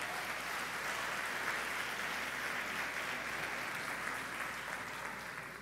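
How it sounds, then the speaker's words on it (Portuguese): A church congregation applauds a pastor in a steady, dense wash of clapping that holds evenly throughout and tapers slightly at the end. "Pode aplaudir o senhor."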